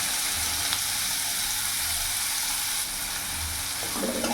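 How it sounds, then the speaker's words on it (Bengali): Chopped onion sizzling steadily in hot oil with cumin seeds, a dense, continuous frying hiss close by, with a few faint stirring scrapes near the end and no talking. "পেঁয়াজটা একটু ভাজা ভাজা করে নেব"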